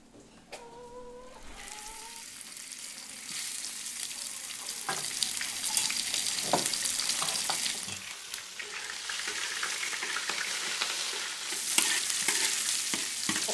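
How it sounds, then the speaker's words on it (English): Pork belly stir-frying with preserved Chinese mustard greens in a Hakka-style dish, a steady loud sizzle with scraping stirs that grows fuller after the first few seconds and continues throughout. "stir-fried pork belly with this beautiful preserved Chinese mustard green, a type of Chinese cabbage"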